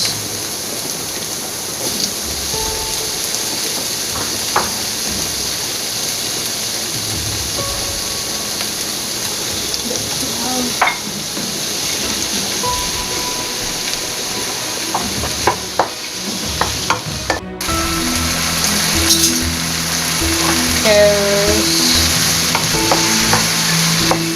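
Squash and beef being stirred in a hot pan, a steady crackling sizzle with scraping strokes throughout that grows a little louder and fuller near the end.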